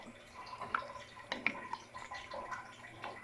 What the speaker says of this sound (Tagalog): lagyan natin ng tubig ay i-mix natin